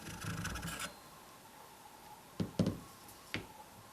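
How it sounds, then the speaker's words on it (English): A barrel being pulled out of a SIG MCX rifle upper receiver: a close scraping rub at first, then a few sharp metallic clicks and knocks, with no voices. "Then you can pull the barrel out."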